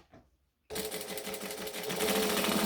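A sewing machine starts abruptly after a brief quiet moment and runs steadily along the edge of a bag within the seam allowance, loud and close, with a fast even stitching rhythm.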